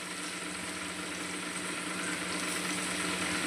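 Ginger, chili and garlic paste sizzles steadily in hot oil alongside cooked tomato, a continuous close frying hiss with faint bubbling and no voices.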